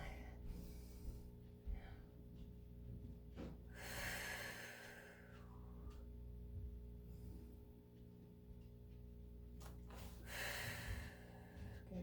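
A person breathes in and out audibly during a Pilates floor exercise, with two or three long airy inhales and sighs rising over a steady low background hum.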